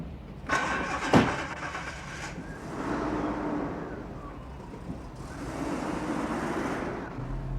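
A car engine cranks and catches with a sharp start, settles into a rough idle, then revs and pulls away, rising twice as it drives off, close and loud with no talk over it.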